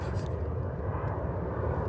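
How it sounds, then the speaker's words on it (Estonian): An airplane passes at an airport, a steady low engine roar close enough to fill the background under a person's talk. "seal läheb praegu lennuk"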